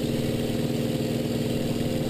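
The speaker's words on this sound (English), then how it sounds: "I love this Merlin engine." A P-51C Mustang's Merlin engine drones steadily in flight, a loud, continuous low-pitched roar with a dense rumbling texture and no pauses or voices.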